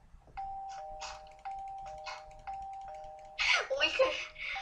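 Doorbell chiming repeatedly in the video game Minecraft, a series of bright ding tones with steady sustained notes, followed by a louder, busier burst of chimes near the end.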